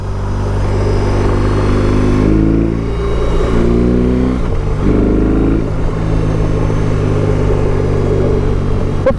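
A 2022 BMW R 18 Transcontinental motorcycle engine rumbles steadily and loudly throughout, with deep low harmonics and a couple of shifts in pitch as it rides on.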